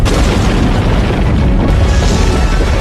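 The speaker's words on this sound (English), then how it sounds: "Humans living on the moon accidentally cause an explosion that destroys the moon and changes its orbit" A massive film explosion destroys the moon, a loud, dense, sustained roar of rumbling blast noise that fills the whole stretch without letup.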